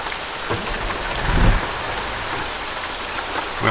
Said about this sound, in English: that rain is heavy, isn't it?